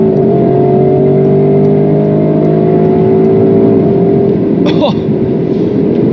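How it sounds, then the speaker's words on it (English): A Porsche Cayenne Turbo GT accelerates at full throttle on the Autobahn, heard from inside as a loud, steady engine drone with climbing tones, a gear-change dip near the end and a brief voice. "here we go, full throttle."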